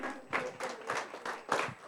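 Applause for a group of participants at a church gathering: a short burst of scattered hand clapping, rhythmic and fairly faint, with no voices over it.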